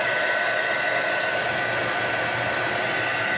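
A hair dryer runs steadily on its heat setting while a moustache is styled with wax, a close, constant loud whoosh with no breaks and no talking.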